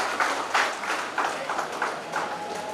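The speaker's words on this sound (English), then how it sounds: "I request everyone to please give a round of applause for participants." An audience at an international management conference gives a round of applause for participants, moderate clapping that swells in soft bursts and stays fairly even throughout.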